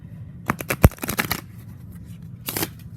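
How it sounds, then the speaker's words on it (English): Quick riffling bursts of a Fairy Lenormand oracle card deck being shuffled, a longer flurry followed by a short second riffle after a pause, close and fairly crisp. "when I can actually really shuffle, like a regular pack of cards"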